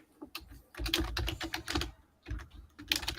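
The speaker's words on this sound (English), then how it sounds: "It's Steve with his extra loud keyboard." An extra loud mechanical computer keyboard clatters in rapid, uneven bursts of clicky keystrokes, close and prominent, with a brief pause partway through and no talking.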